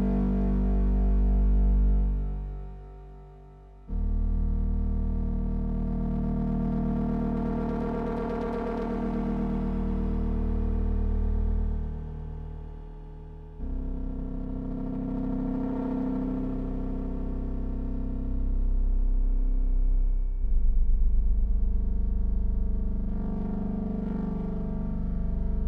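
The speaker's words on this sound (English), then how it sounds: "I manipulate the mod filter to get a little bit of that overdriven sound." A Sequential OB-6 synthesizer plays long, deep sustained chords through an overdriven mod filter and reverb, gritty distortion swelling in the upper range, changing chords every few seconds with no voices.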